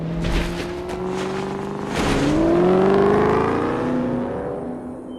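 A car engine roars and revs through a city street in a scene from the film I Am Legend, a loud, rising and falling growl with a whine sweeping upward, close and alone.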